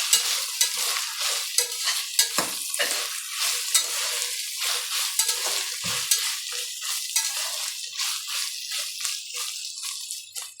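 Biryani masala frying and being stirred in a pot for a one-pot chicken biryani: a steady close sizzle with repeated scraping strokes of a spoon against the pot throughout.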